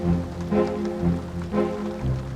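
Rain falling on a sodden archaeological excavation site, a dense steady patter under low rumbling background noise, continuous and fairly loud with no voices.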